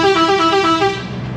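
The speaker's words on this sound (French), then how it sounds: "ils jouent du klaxon" Car horns honking at night around 23:23, a loud, steady blaring tone pulsing in several short rhythmic blasts before fading after about one second.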